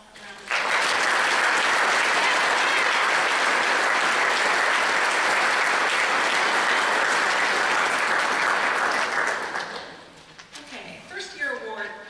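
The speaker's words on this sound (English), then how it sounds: "let's give them all a round of applause" A school orchestra's audience at a high school pops concert applauds loudly and steadily for about nine seconds, then the clapping fades out into scattered voices and room noise.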